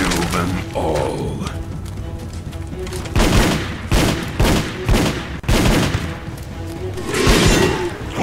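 Gunfire in the video game The Haunted: Hells Reach, heavy bursts of shots with thumps and booms coming in several loud waves, close and intense, with mechanical clatter between them.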